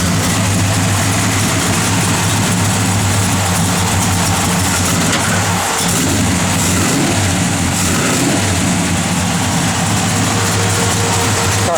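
A 1968 Plymouth GTX V8 idles steadily close by, a loud, even low rumble held for the whole stretch with only slight wavering and no voices.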